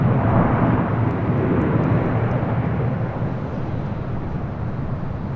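A LOT Polish Airlines jet arriving from Warsaw at LAX gives a broad, loud roar of engines that stays steady and slowly eases off, with no voices.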